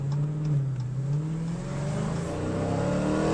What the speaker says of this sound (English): Once we hit this corner, I'll give her the beans, and we'll see what she sounds like